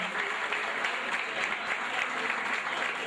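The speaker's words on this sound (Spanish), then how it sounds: "les brinden un fuerte aplauso a toda esta gran agrupación conformada por estos muchachos" Audience applause for a live music group, a steady dense clapping from a crowd that holds at full strength throughout without any talk.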